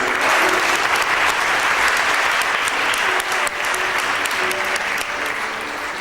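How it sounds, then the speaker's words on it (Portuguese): Loud, dense applause fills a church service as the audience claps for themselves, a sustained roar of many hands close by that fades slightly toward the end of six seconds. "Você pode aplaudir você mesmo?"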